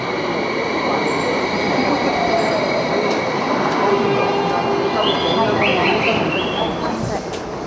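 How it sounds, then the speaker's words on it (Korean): The Tsukuba Express, a 130 km/h commuter express train near Tokyo, roars past close by with a steady loud rumble of wheels on rails and brief high squeals, running continuously without talk. "스쿠바 익스프레스는 지난 2005년 개통한 시속 130km의 광역 급행 열차로 45분 만에 도쿄 외곽 4개 현을 가로지른다."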